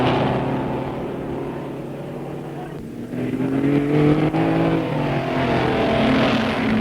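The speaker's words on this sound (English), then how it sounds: "interest centres on the leading cars as they move round the course on the 23rd lap" Racing cars at the 1959 Bathurst 100 Easter race drone around the circuit on a late lap, engines rising and falling as they pass at moderate distance, continuous and steady without talk.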